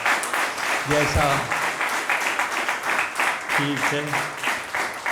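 Audience applause at a Swachhata Diwas event marking the Prime Minister's birthday, steady clapping throughout with someone speaking briefly over it.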